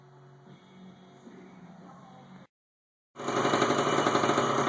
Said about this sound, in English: there's the slipper clutch spinning